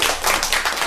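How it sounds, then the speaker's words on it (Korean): An audience at an academic conference breaks into a short burst of applause, a quick run of close, sharp claps lasting about a second. "박수!"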